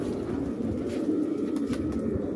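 Pigeons cooing close by in Quetta, soft repeated throaty coos over a steady low background murmur, with no talking during the calls.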